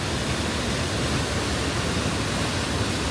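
Strong rush of fresh water gushing out of a mountain cave near Kotor, flowing into the Adriatic Sea; a steady, loud, broadband roar that continues unbroken throughout with no talking.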